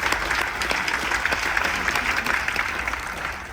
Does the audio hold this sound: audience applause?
yes